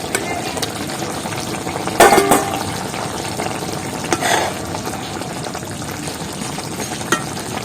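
Bombay duck fish simmering in its own released liquid as boiled hog plum is added, a steady bubbling sizzle with a couple of sharper clatters and splashes as the fruit goes into the pan.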